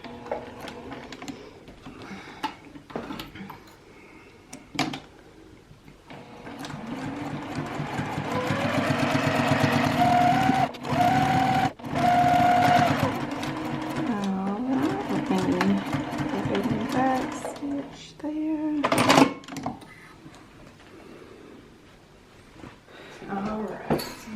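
A domestic sewing machine stitches a reversible tote bag, its motor whirring in steady runs that speed up and pause, close and fairly loud, with a voice talking at times over the work.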